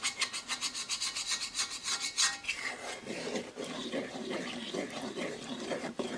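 Coconut milk being stirred through a sweet potato flatbread topping mixture, giving a steady wet rasping and rubbing scrape that repeats rhythmically and close, with no talking.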